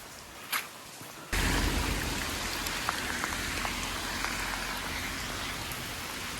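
Heavy rain pours down steadily on an outdoor walk, a dense broadband hiss that starts abruptly and stays loud and close, with scattered drops tapping nearby and no voices.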